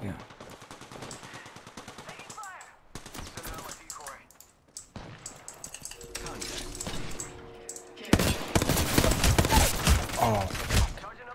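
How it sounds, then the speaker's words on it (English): Rapid bursts of automatic gunfire and single shots in an Apex Legends Arenas match, crackling in fast volleys that grow louder and denser toward the end, with a player talking over parts of it. "They're shooting at me."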